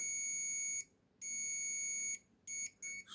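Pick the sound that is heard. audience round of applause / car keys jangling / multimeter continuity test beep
multimeter continuity test beep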